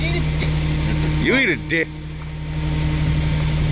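A 1973 Plymouth Satellite with a 451 cubic inch big-block stroker engine and quiet mufflers runs at a steady, loud idle with a deep low rumble, with a brief dip midway and a person speaking over it.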